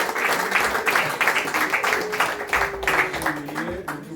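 An audience at a celebration in Mayange claps in a dense, steady burst of applause for about four seconds, while a voice speaks over the clapping.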